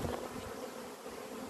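Honey bees buzzing densely around an open hive frame during colony inspection, a steady close, loud drone with no talk.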